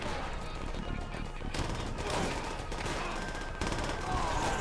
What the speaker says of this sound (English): People keep shooting me from behind.